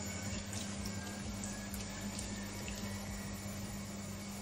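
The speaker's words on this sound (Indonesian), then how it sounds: "Oke, aku bakalan basuh muka. Ini masih pakai air yang agak hangat." Warm water runs steadily from a sink tap while a face is rinsed, a constant close splashing hiss with faint hand movements, no talking.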